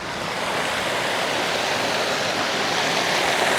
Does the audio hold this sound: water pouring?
yes